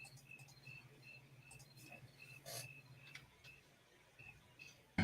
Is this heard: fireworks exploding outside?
no